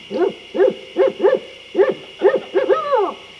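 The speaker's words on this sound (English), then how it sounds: "which spooked a barred owl who was sitting on an old oak snag." A barred owl perched on an old oak snag at a hardwood hilltop gives a run of loud, close hoots, about eight rising-and-falling calls in a steady rhythm ending in a drawn-out descending note, with no voices.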